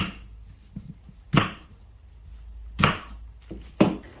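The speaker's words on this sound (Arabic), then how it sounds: "وبحتاج حبة بصل أقطعها بالشكل هذا" A knife chops an onion into large pieces on a board for a Yemeni-style meat burma, with three sharp, distinct thuds spaced a second or so apart and a few softer taps between, with no talk.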